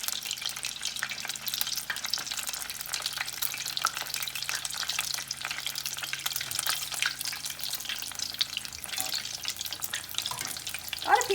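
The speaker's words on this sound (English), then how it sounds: "I'm using vegetable oil for frying." Vegetable oil fries rice balls with a steady, soft crackling sizzle that carries on throughout.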